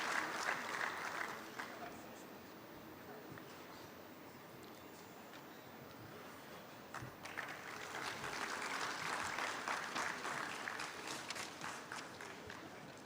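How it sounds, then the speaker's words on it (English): At an alumni meet felicitation, a crowd applauds for a former police chief, a distant, soft rush of clapping that thins in the middle, then swells again, with voices murmuring underneath. "Could we have a huge round of applause, please?"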